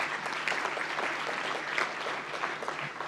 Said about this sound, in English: Let's give a round of applause to the graduates who have just been presented.